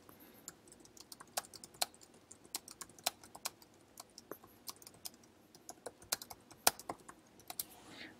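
Computer keyboard typing heard up close while a document is being written, with irregular, crisp key clicks that come in loose bursts over a quiet background and no voices.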